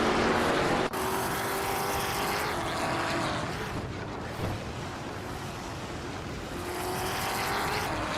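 A classic 1966 McLaren Elva Ford race car in a racing video game, its engine droning steadily with pitch swells as it passes and pulls away, loud and continuous with no talk.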